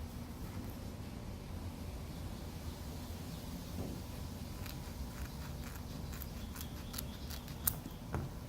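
Scissors cutting through a KeelEazy prep pad for a kayak keel guard, a run of soft crisp snips growing more frequent toward the end over quiet room noise, close and fairly faint.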